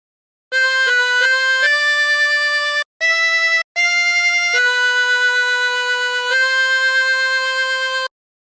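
The hymn How Great Thou Art is played solo on a 16-hole tremolo harmonica as a series of sustained, wavering notes with a couple of short breaks between phrases.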